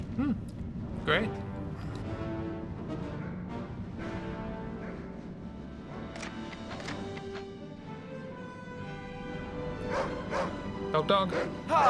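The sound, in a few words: dog barking in Medal of Honor video game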